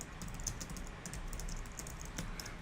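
Typing on a computer keyboard while working in AutoCAD 2D: a steady patter of quiet, close key clicks that run for a few seconds with no talk.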